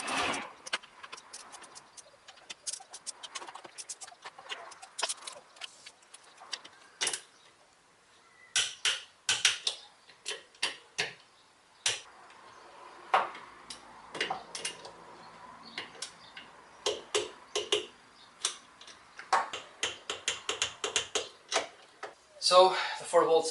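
A torque wrench set to 9 foot-pounds tightens the bolts on a Corolla AE86 brake master cylinder, giving scattered sharp clicks and light metallic clatter in short bursts against a quiet background.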